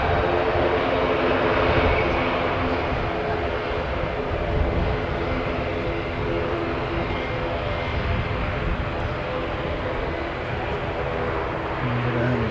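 A loud, steady aircraft engine roars throughout at close range, a noisy-engine plane seen while plane spotting, its broad drone holding level for the whole stretch with no breaks.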